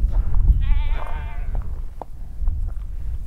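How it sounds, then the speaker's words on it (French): A sheep gives a single wavering bleat lasting about a second, at moderate distance, over a steady low rumble of outdoor wind noise at Sillustani in Peru. "Et là-bas il y a les moutons."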